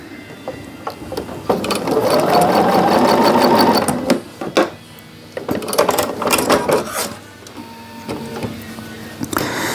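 Sewing machine stitching pieced quilt block sections together, a steady loud whirring run of about two seconds followed by shorter bursts and stops with handling clatter.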